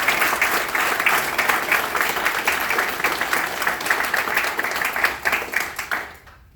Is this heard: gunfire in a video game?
no